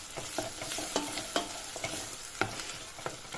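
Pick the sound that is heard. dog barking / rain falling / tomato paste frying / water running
tomato paste frying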